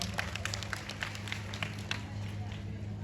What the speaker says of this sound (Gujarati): વધારે તાળી પડશે જોરદાર